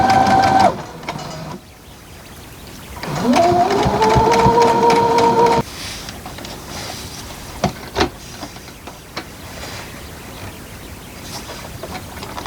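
A sewing machine stitches a quilt in two short runs, each with a whirring motor hum that rises as it speeds up, followed by quieter handling clicks and taps.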